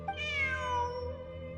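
A single drawn-out cat meow from a video game, Genshin Impact, clear and close, rising then fading over a low steady background hum.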